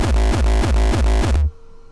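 Uptempo hardcore kick drum with heavy sub bass and crunch, five loud, fast, evenly spaced distorted thumps with pitch-dropping tails, stopping abruptly after about a second and a half.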